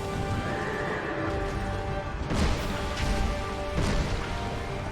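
A horse boss in the video game Dark Souls 2 neighs loudly and continuously, its whinny layered over heavy thudding impacts and clattering hoofbeats.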